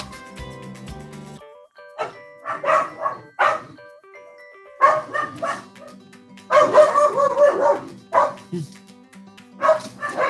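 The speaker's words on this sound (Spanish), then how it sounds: "esperando que el desfile de los perros se calme" Several dogs bark and yip outside in irregular bursts, some near and loud, others farther off, with gaps of quiet between volleys and a steady tonal hum running underneath.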